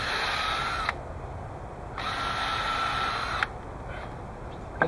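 Power drill pre-drilling angled holes in a brace for a parabolic trough mirror solar water heater frame, two sustained whirring bursts of about a second each, separated by short pauses, close and fairly steady, with no talking.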